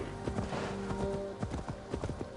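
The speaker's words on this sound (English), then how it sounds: "And we'll ride a new horse over here." Horse hooves clip-clop at a steady trot in Assassin's Creed Valhalla, Wrath of the Druids, with irregular thudding steps over a dense, noisy game soundscape.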